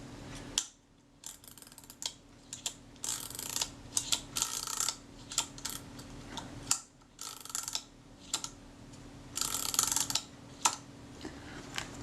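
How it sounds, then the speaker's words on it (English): Film advance mechanism of a Zeiss Ikon Contina IIa camera being worked, heard as a series of quiet close clicks, ratcheting and small mechanical snaps in irregular bursts, with no talk. "So the film advance is working."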